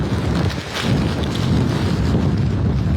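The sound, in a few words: hurricane winds gusting over 80 mph, Hurricane Helene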